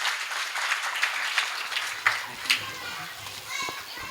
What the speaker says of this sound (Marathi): तरी सर्वांनी टाळ्या वाजवून सरांचं स्वागत करायचं